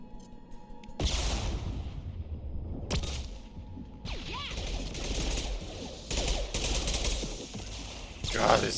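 Repeated bursts of rapid automatic gunfire from the player's weapon in Mass Effect 2, loud and close, in several sustained volleys separated by brief pauses, with impact crashes and game effects mixed in.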